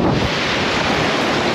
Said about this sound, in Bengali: ওই দেখেন কত ঢেউ